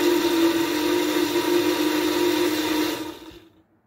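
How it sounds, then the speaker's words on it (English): A kitchen blender pureeing canned tomatoes, running as a loud steady whirring motor hum for about three seconds before spinning down and stopping. "Go ahead and start blending those so you can make more room in the blender."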